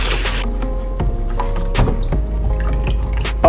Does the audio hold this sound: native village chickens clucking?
no